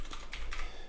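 Quick keystrokes on a computer keyboard during a penetration-testing session, three or four crisp close taps in under a second ending on a key press like Enter.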